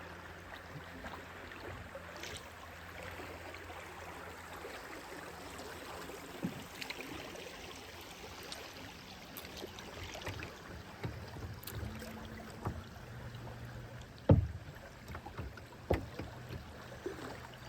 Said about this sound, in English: Okay friends, we're coming up into a little rapids.